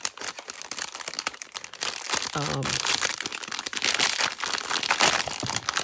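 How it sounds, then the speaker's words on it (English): Plastic packaging crinkles and rustles as 3-roll packs of waxed thread are handled close by, with busy crackling throughout under occasional talk. "sorry about the rustling"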